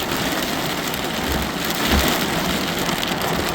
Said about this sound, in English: But it's been raining so hard we can hardly hear the thunder,